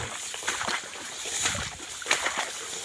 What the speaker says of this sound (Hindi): देखिए ये पानी चल रहा है, मैं बताता हूँ आपको।